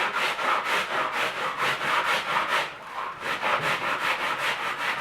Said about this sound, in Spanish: la voy sacando con lija porque no tengo justamente en la caja de herramientas un cúter